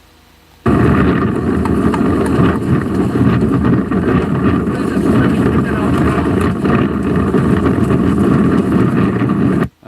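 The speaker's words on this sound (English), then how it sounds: "The wind is a little bit strong for that." Strong wind buffets the microphone outdoors in the Florida Keys, a loud, continuous low roar that starts abruptly and holds steady for about nine seconds.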